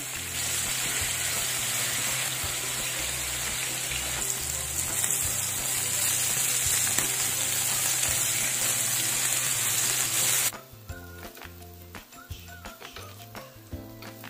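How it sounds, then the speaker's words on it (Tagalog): Chicken pieces fry in oil and butter in a pan, browning to golden with a loud, dense, steady sizzle that cuts off abruptly, leaving faint scattered clicks. "Pinirito ko dito ang chicken hanggang sa mag-golden brown."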